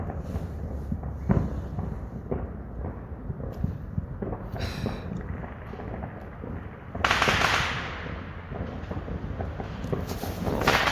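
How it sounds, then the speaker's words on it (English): Fireworks set off by neighbours nearby on New Year, heard as a steady crackle of pops and bangs outdoors, with a louder burst of hissing, crackling noise about two-thirds of the way through. "So I think somebody was setting up here to launch a fireworks here."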